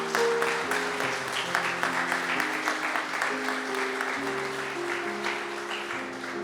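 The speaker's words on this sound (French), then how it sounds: "je pense que le Seigneur mérite un applaudissement" A church congregation applauding, a steady wash of clapping hands that fills the room at moderate volume, with soft sustained organ or keyboard tones underneath throughout.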